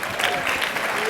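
Audience applause at a company family reunion event, honoring the operations staff; steady, dense clapping fills the short stretch at moderate loudness without any speech over it.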